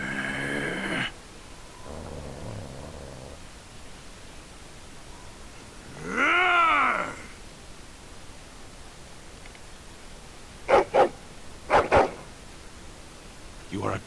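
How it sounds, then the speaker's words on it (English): A dog in the video game Dragon Age Origins barks in short, sharp bursts, two quick pairs near the end, following a drawn-out whine or groan, all at moderate volume over a quiet background. "Oh, poor puppy."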